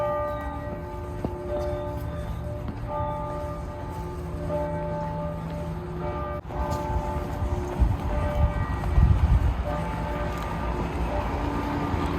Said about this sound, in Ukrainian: Дзвони дзвонять, це 6 годин вечора.